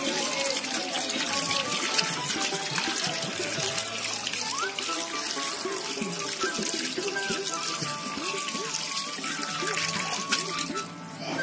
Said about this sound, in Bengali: খুব যত্ন সহকারেই আমাদের এই মালাইটাকে ধোয়া হচ্ছে, একদম পরিষ্কার হয়ে।